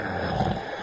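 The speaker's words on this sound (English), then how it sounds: "That noise is the creature snoring." Walrus snoring sound effect in a story, a deep, rumbling, continuous roar-like snore that stays steady and fairly loud throughout.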